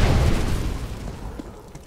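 Incendiary grenade in the game CS:GO, a single burst of flame that rises quickly and then fades into a low crackling rumble.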